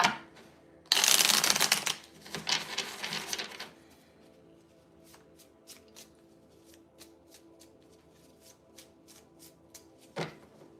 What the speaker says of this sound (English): One last shuffle, Scorpio.